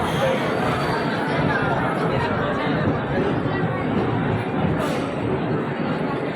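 A busy railway platform in India roars with the chatter of a large crowd, many voices blending into constant, loud hubbub that never lets up.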